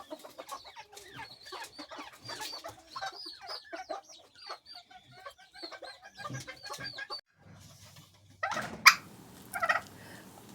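Close-up BB Red bantam chickens cluck and chatter in quick, busy bursts, joined by a few gobbling calls from a young tom turkey poult near the end.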